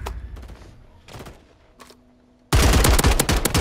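Loud, dense burst of automatic gunfire from a Call of Duty MW3 Search and Destroy match, the RAM-9 SMG, erupting suddenly after quieter scattered game sounds and staying close and continuous to the end.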